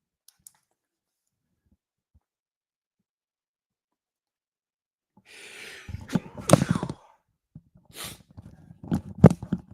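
A single sudden sneeze from a radio host in a studio breaks a near-silent stretch, followed by a few breathy sounds and brief clicks, close and clear.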